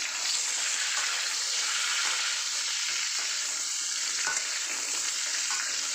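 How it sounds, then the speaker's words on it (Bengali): Drumstick stems, carrots and potatoes fry in a pan for shukto, giving a continuous loud hiss and sizzle up close with light stirring scrapes throughout and no voices. "এবার আমি সবজি ডাঁটা, গাজর, আলু সব একসাথে দিয়ে একটু নাড়াচাড়া করে জল দিয়ে দেবো।"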